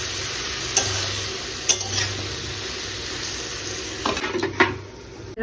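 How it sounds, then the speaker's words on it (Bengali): Vegetables with salt and turmeric being stirred in a pan before covering on low flame, giving a steady soft sizzle with a few sharp utensil scrapes and knocks against the pan, close and alone with no talking. "এবার ভালো করে মিক্স করে একদম লো ফ্লেমে ঢাকা দিয়ে দেবো"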